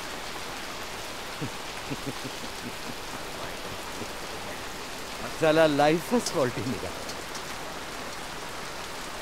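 Steady rain falls as a soft, continuous hiss throughout, while a voice speaks briefly partway through.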